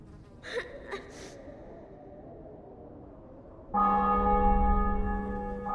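A church bell rings out loud and sustained in The Witcher 2, entering abruptly after a quiet stretch with a few faint breathy sounds, its tones holding steady to the end.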